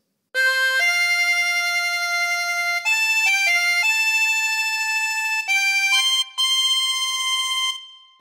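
A harmonica plays the second phrase of Amazing Grace, clear sustained reedy notes moving slowly between a few pitches, loud and close with no talking.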